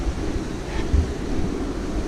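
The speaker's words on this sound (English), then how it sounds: "here will give us a better view of the little rushing water here" A small stream rushes along a trail walk near Buena Vista, Colorado, giving a steady, continuous broadband wash of water that holds even throughout, with no voices.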